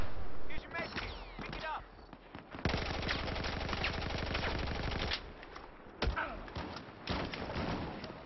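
Video game gunfire from an online shooter map, with short bursts and then a sustained loud rapid machine-gun stream in the middle, followed by scattered single shots and thuds, with voices talking over it.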